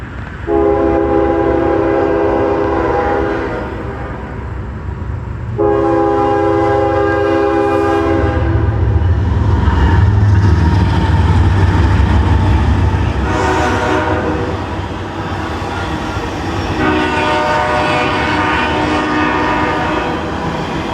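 A loud Norfolk Southern freight train rumbles past nearby while its horn blasts in several long, chord-like bursts over the steady roar of the cars.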